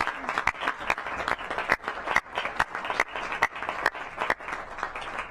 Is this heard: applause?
yes